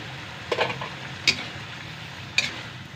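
Kangkong and chili stir-fried with sardines in a hot pan, a steady sizzle broken by three sharp stirring scrapes and clatters at even intervals, close and alone.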